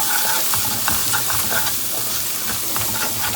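Masala spices for an egg tawa masala sizzling and spitting in hot oil as they are stirred, a dense continuous frying hiss with scraping stir strokes, close and loud, no talking.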